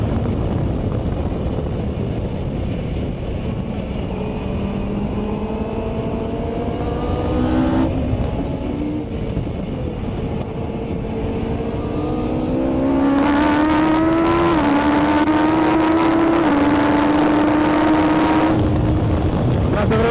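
Noble M600 engine on the Nurburgring, revving hard and climbing through gears in a series of rising sweeps with brief drops at each shift, loud and continuous under faint wind and cabin noise.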